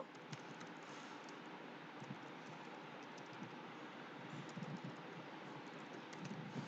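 Typing on a computer keyboard while entering text into a spreadsheet cell, a steady stream of soft, quiet clicks over a faint background hiss, with no talking.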